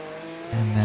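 A Porsche Cup race car at Mugello losing control, engine tone holding steady then jumping to a loud, deeper roar partway through, brief and close.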